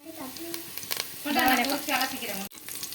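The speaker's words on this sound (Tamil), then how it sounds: "ஒரு 2 பெரிய வெங்காயம் நறுக்கி போட்டுக்கோங்கக்கா. நல்லா செவந்து வரட்டும்." Two large chopped onions frying in a pan for a bread biryani, a sizzle that swells loudly in the middle and is briefly interrupted, with clinks and a stirring sound.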